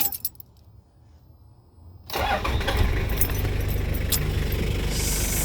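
After a brief jingle of keys and a quiet pause, a Toyota Hilux Surf's 1KZ-TE turbo diesel cranks and catches almost at once, then settles into a loud, steady idle close by.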